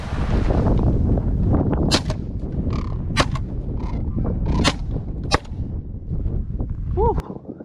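Several loud, sharp shotgun blasts ring out one after another outdoors as sandhill cranes fly over during a hunt in Saskatchewan, with wind rushing and a voice and crane calls near the end.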